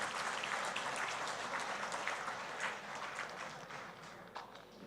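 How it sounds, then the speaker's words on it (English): A crowd at a QCELL 5G launch event in Gambia gives a round of applause to the speakers. The clapping is dense and sustained, heard from some distance at fairly low volume, and tapers slightly toward the end. "if you could please give a round of applause to all the speakers that we have heard thus far"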